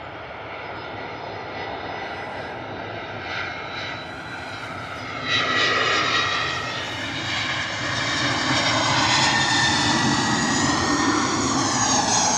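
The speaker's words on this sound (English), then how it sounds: "A320 in from Nice, EasyJet, 214 variant. Looking absolutely majestic on the approach" An EasyJet Airbus A320-214 arriving from Nice on approach to Bristol Airport in wet, stormy weather. Its engines roar steadily and loudly throughout and swell louder about midway.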